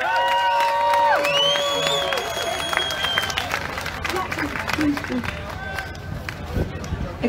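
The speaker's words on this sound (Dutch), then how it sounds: "Daarvoor het applaus voor onze Floor." Audience applause and cheering at a Dutch TV show, with clapping and some cheers and whistles rising loudly at first, then settling into sustained, fairly close clapping that continues for several seconds.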